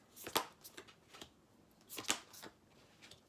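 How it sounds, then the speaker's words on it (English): Tarot cards being shuffled by hand, with quiet crisp riffling bursts in a few separate clusters and soft flicks between them. "Sometimes I like to shuffle them."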